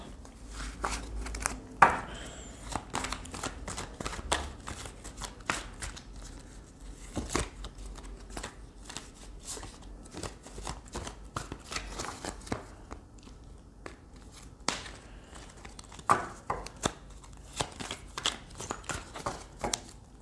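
Psychic tarot cards are shuffled and handled in a quiet room, giving irregular bursts of soft papery riffling and slapping over twenty seconds with occasional louder taps.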